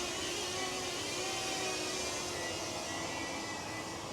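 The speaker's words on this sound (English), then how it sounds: "The drone is up." A DJI Flip drone flies overhead near the water, giving a steady, faint high-pitched whirring hum under a constant outdoor background, with no clear changes over the few seconds.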